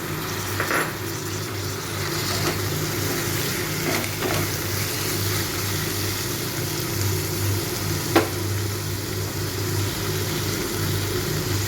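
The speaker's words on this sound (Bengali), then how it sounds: "পেঁয়াজটা একটু ভাজা হয়ে গেছে। আমি এবারে এর মধ্যে একটা টমেটো কেটে রেখেছি, টমেটোটাকে দিয়ে দিলাম।" Onion and tomato fry quietly in a pan, a faint continuous sizzle with occasional soft clinks and stirring scrapes, no voices.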